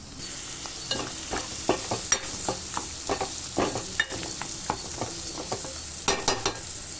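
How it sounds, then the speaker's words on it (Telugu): Mutton ghee roast frying in a pan, with a steady sizzle broken by scattered scraping and stirring knocks of a spoon against the pan, close and moderately loud, and no voices. "కొంచెం ఒక 2 మినిట్స్ ఫ్రై చేద్దాం"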